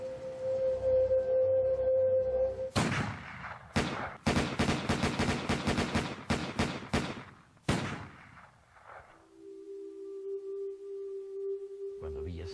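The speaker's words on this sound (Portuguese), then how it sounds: "desferiram 150 tiros no carro em que viajava" Rifle fire erupts in a rapid, dense burst of many sharp, loud shots aimed at a car, in the ambush of Pancho Villa near Parral in 1923, starting with a few isolated cracks and then fading to a quiet steady hum.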